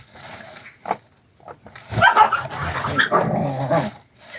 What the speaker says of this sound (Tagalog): Nag-away yung mga aso sa labas.